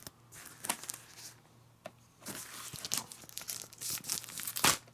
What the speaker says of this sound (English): never can open up these darn things, especially with the plastic wrapping on it here